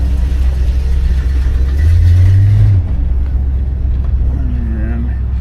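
A Buick LeSabre car pulls out at a dealer lot, its engine giving a low idle rumble and a brief rise in revs midway before easing off. Nearby talk runs over the engine.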